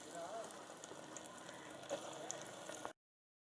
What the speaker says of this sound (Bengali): চলো এখন ফোড়ন দিয়ে দিই